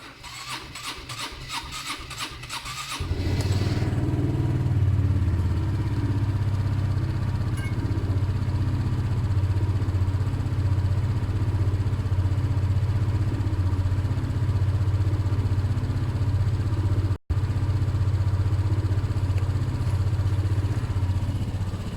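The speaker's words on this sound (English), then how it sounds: "that's going to drown out the sound of the moped" A Honda PS125 moped engine idles with a steady, buzzing low drone and heavy rattling vibration, after a brief lighter mechanical chatter at the start.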